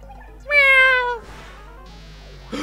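Crying cat butterfly monster in the video game Miitopia gives a loud, drawn-out meow, followed by softer game sound effects. No one talks.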